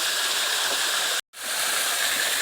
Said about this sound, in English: This is our last waterfall down in our canyon.